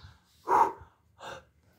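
A child blows breath onto a car windshield in two soft, breathy puffs, the first longer and stronger, the second shorter, heard close up without talk.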